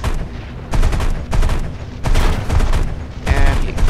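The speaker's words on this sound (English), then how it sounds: "I've got machine guns shooting out of the sides." Aircraft machine guns and a cannon firing in War Thunder come as several loud, close bursts of rapid fire with short pauses between them. No voices.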